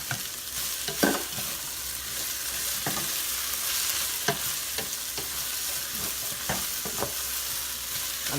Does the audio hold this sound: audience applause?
no